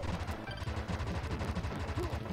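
Machine gun fire in the game Wild Guns, rapid rhythmic bursts of retro shots rattling continuously at moderate volume with game sounds layered around.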